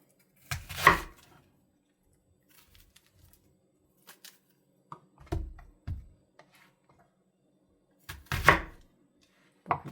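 A few sparse knife strikes on a cutting board as onions are cut for Korean radish kimchi, three sharp, fairly loud thuds spaced seconds apart with fainter taps between, no talking.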